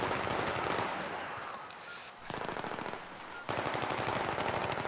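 Rapid automatic gunfire rattles through a shooter video game in close, loud bursts, pausing briefly mid-way before the fire resumes.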